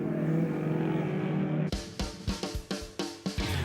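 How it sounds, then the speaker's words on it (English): A blue Mazda race car takes the checkered flag to win race 1, its engine a loud sustained drone that breaks into choppy, stuttering revs as it passes close by. "the blue Mazda 3-3 will take the checkered flag and victory in race 1"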